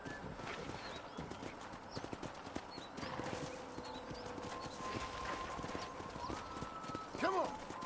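Horse hooves clip-clop steadily at close range in Red Dead Redemption as a ranch tour gets under way, rhythmic and continuous, with a short whinny near the end and game voices speaking over it.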